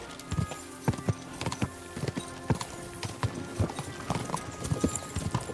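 Horse hooves clip-clop in a steady, irregular walking rhythm in the medieval game Kingdom Come: Deliverance II, close and distinct over a busy background of ambient noise.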